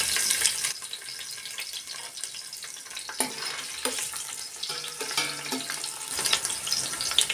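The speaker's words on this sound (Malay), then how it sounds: "Kemudian kita akan tumiskan kita punya bunga lawang. Serai dan lengkuas." Star anise, lemongrass and galangal fry in hot oil for a Johor-style mee rebus, a dense close crackling sizzle with bursts of spattering and occasional scraping stirs, continuous throughout with no talk.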